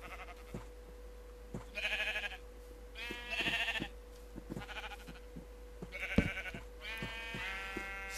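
Several sheep in a Minecraft world bleat in repeated short wavering calls over a steady electronic hum, with scattered soft clicks and no talk.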